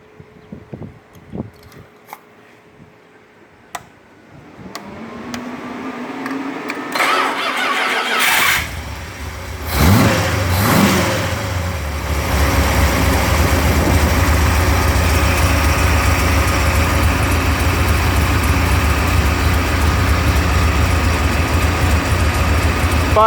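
A 1976 car with an HP 440 engine cranks and fires after a few faint clicks, then settles into a loud, steady, rumbling idle that carries on alone.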